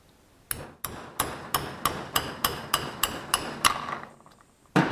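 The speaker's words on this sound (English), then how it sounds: "now with a hammer and this little container" Eleven sharp metallic taps, evenly spaced and close, a hammer striking a punch to drive a small ball out of a speargun part, in a steady rhythm with a quiet pause near the end.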